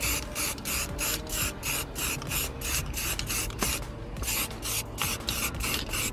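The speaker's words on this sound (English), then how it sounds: "look how satisfying it is when you spray it" Spray paint applied to the bodywork of a written-off Volvo car, heard close up as a rapid series of rhythmic hissing bursts with a brief pause partway through, and no talking.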